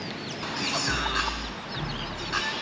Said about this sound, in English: One thing there's never short of in Hawaii, chickens.